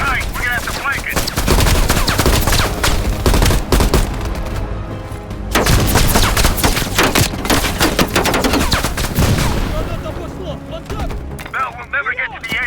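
Loud bursts of machine gun fire in a Black Ops Cold War campaign battle, with long sustained volleys, a short pause near the middle and sporadic shots at the end, voices faintly underneath.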